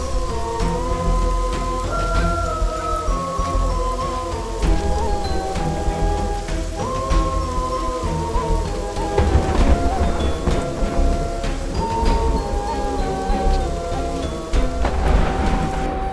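A storm lashes a betel-leaf crop field with a steady roar of heavy rain and wind, while loud dramatic music plays over it throughout.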